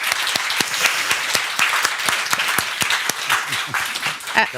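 Small group at an anniversary gathering claps in a loose, uneven patter, individual hand claps distinct and fairly close, moderately quiet and lasting a few seconds without talk.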